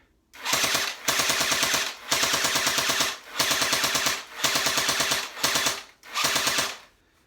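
A&K M60 airsoft machine gun fires indoors in six sustained bursts, each about a second long with short gaps, loud and rapid with a rattling mechanical chatter and a motor whir.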